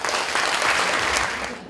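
Audience applause at an English speech contest, a dense close burst of clapping lasting under two seconds.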